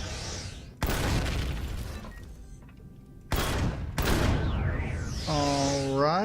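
Gunfire in the video game Empyrion: Galactic Survival, several loud bursts of rapid shots separated by short gaps, close and harsh, ending with a rising electronic tone.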